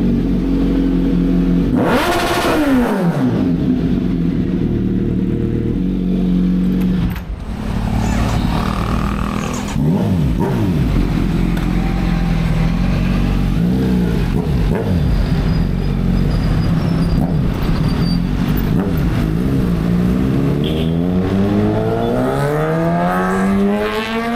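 Kawasaki Z900 motorcycle fitted with an SC Project S1 full-system exhaust, revving hard and loud in repeated roaring bursts that rise and fall close by, with a steady idle between pulls.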